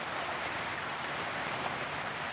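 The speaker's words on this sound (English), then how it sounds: "listen to the rain for a minute" Steady rain falls outside in New Zealand, a constant broadband hiss with no clear gaps. It sounds moderately close and goes on evenly throughout, with no voices.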